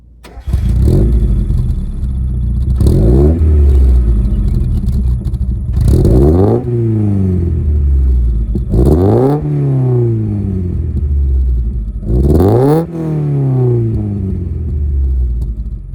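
A Mazda Roadster (NA) sports car engine with carburetors and a quiet muffler revved about five times in separate bursts, each rising and falling smoothly with a deep, muffled tone, close and loud.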